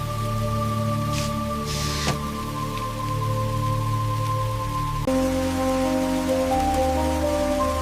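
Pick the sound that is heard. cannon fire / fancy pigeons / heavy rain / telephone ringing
heavy rain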